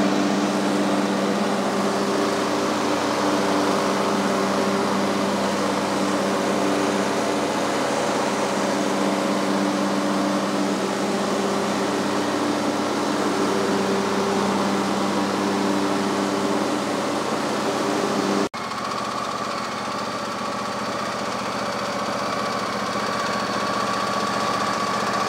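An Ariens 22hp riding mower with a 46-inch deck and hydrostatic drive idles nearby, a steady engine hum with a sudden shift in tone partway through, and no talk.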